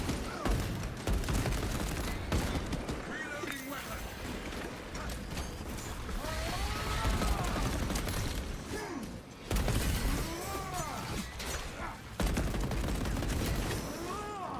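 Gunfire in Space Marine 2, rapid bursts of heavy shots and mechanical clanks layered with chaotic battle effects, continuous and fairly loud, with occasional brief pauses and faint talk underneath.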